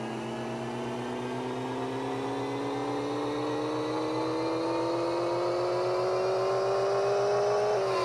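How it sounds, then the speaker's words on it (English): Video-game audio from Pixel Car Racer of an RB26 engine revving on a dyno: a synthetic engine tone climbs steadily in pitch over several seconds, loud and continuous, then drops off right at the end. "our next engine is going to be the RB26"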